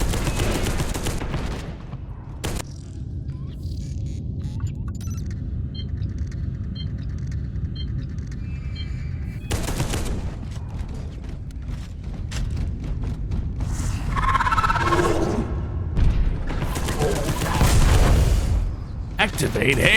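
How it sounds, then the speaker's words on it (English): Automated turret opening fire in the sci-fi shooter Space Hulk Deathwing, heard as bursts of heavy gunfire and booming blasts that flare up midway and again near the end, mixed with game ambience. "Oh, that's a turret."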